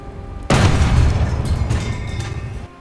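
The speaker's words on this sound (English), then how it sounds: "Now, switch to gunner view and fire at the tank engine." A single heavy tank cannon blast in War Thunder booms out suddenly and loud, then rumbles and decays over a couple of seconds, with faint crackling debris.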